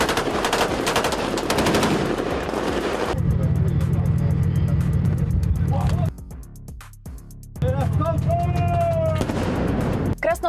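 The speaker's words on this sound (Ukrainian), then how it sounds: "Місцеві спостерігали стрілянину та вибухи." Rapid bursts of automatic gunfire crackle in close succession during an attack near Novorossiysk, with a brief lull before more shots, mixed with a steady engine drone and distant voices.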